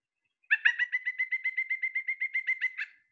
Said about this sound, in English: the pileated woodpecker